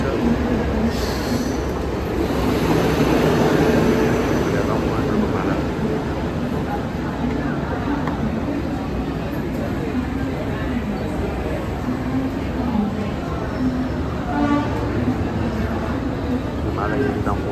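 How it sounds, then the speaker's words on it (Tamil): A train pulling into Vasai Road station in Mumbai, a broad rumbling rail roar with faint wheel squeal, steady and fairly loud throughout, with voices and platform chatter mixed in. "வசை ரோடுக்கு ட்ரெயின் வந்துருக்கு."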